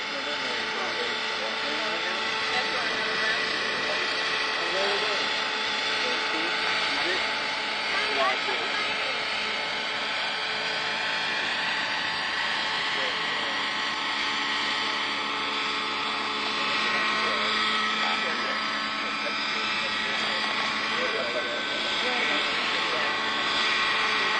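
A steady, droning helicopter engine with rotor whir holds constant for the whole stretch, close and continuous, with faint voices underneath.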